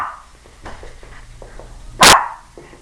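Several dogs barking at a home during a yard tour, a few short barks spread through the clip and one loud, sharp bark standing out near the end, with no talk over them.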